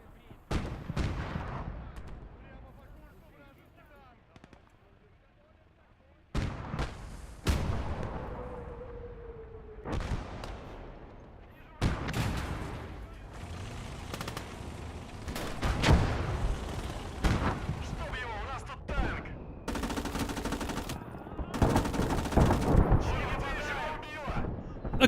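Gunfire and artillery blasts in a Battle of Stalingrad video game, with repeated loud booms and bursts of shooting coming in waves through most of the clip, the intensity rising toward the end.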